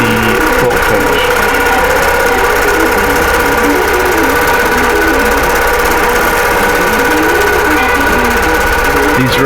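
A sewing machine runs steadily while stitching rows of a quilt, giving a continuous mechanical whir with a fast repetitive rhythm. The sound is loud, close and unbroken throughout.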